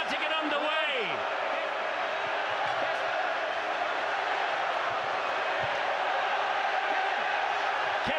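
Huge stadium crowd at a Leeds Rhinos v St Helens rugby league Grand Final roaring continuously before kickoff, a dense, loud wash of cheering and whooping that holds steady throughout, with a commentator talking over it.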